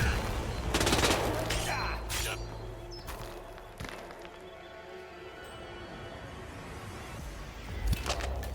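Bursts of gunfire crackle among Hitman 2 game sounds, with rapid shots near the start and scattered single bangs later, under a low background rumble.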